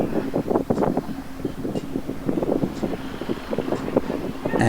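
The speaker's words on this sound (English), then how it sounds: "the winds are blowing like crazy" Strong wind blows during a heavy first snowstorm of the season, a continuous close gusting roar with rustling buffets that rise and fall throughout.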